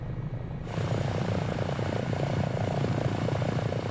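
A Dauphin helicopter carrying an external load in Microsoft Flight Simulator 2024 gives a steady engine and rotor drone that swells in after a brief quieter start, continuous and fairly close, with no talk.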